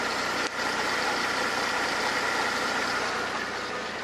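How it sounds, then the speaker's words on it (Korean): Mercedes-Benz sedan engine idling after an engine rebore with about 8,000 km since, a steady, even hum with one brief dip early on and no voices. "엔진 소음 먼저 들려드리면은"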